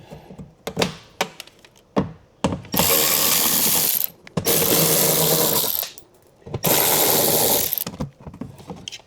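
Quick bursts of a power tool backing out 7mm bolts from a car's interior door panel, short whirring runs alternating with clicks and clunks, close and loud.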